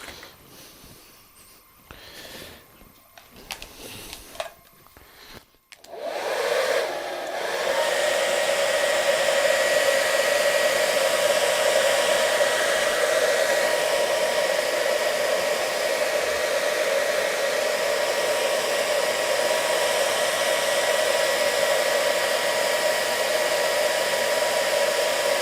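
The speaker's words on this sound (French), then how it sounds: "je vais mettre un petit coup de sèche-cheveux" Hair dryer blowing on fresh paint to dry a dark shadow, starting with a few clicks and handling noises before switching on to a loud, steady whirring roar that runs unbroken to the end.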